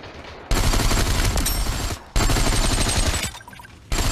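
Rapid automatic gunfire in the VR shooter Population: One comes in two long loud bursts with a short gap between, then a brief quieter pause before another burst starts.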